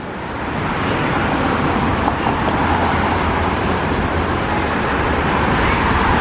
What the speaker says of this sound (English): The shuttle post, and all the buses come and stop and do pickups.